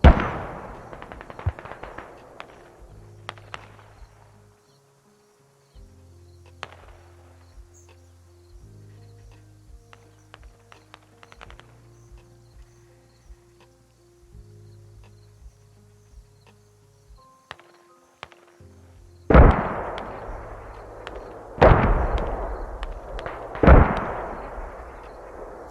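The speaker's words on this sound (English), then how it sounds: "Good to hear those mortars still rocking" Mortar and gunfire in the video game Squad during a competitive tournament match: scattered sharp shots over a quiet stretch, then heavy booming mortar impacts and bursts of fire crashing in loudly near the end.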